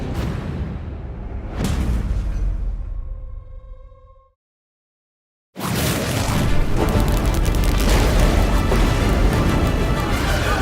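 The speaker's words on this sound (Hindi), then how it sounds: "शक्ति यंत्र से एक विस्फोट हुआ, इतना तेज कि पूरा समारोह हॉल कांप गया।" A loud booming blast with crashing debris, cutting to a brief silence before another sustained roaring burst of rumbling noise.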